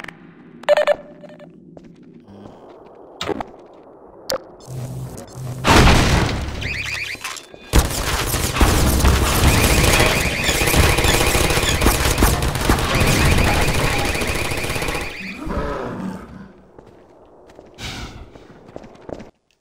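Gunfire and booms from turrets in the video game Half-Life 2: scattered blasts and clicks, then a long loud stretch of rapid continuous firing that fades out, with no talking.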